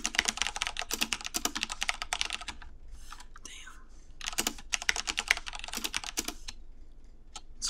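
Rapid bursts of fast typing on a computer keyboard, dense clattering keystrokes up close with brief pauses between runs.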